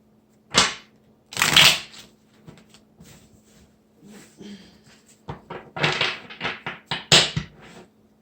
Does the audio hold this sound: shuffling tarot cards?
yes